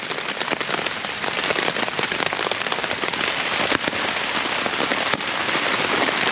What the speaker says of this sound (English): This rain is coming down mad now.